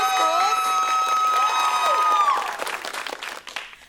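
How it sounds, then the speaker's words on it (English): Audience applause and cheering for two competing schools at a televised high school quiz competition, a loud sustained crowd with whistles and shouts fading toward the end. "Big round of applause for both schools."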